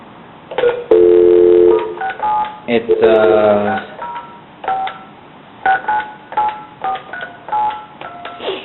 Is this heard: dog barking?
no